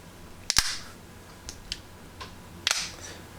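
Plastic and metal legs of a Steadicam AIR spreader monopod base snapping open, a few sharp close clicks and clacks spaced apart in a quiet room.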